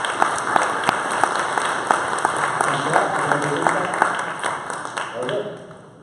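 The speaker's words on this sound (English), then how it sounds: "Round of applause for our team." An audience at a Ruby programming conference talk claps steadily for several seconds, a dense patter of applause that tapers off softly at the end.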